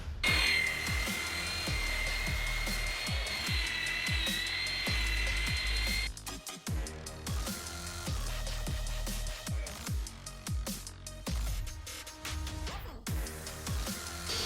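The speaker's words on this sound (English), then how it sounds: "We're buffing out this old girl." A power buffer polishes the paintwork of an old car undergoing restoration, whining steadily and loudly for several seconds, then shifting to a choppier, intermittent hum as the pad moves.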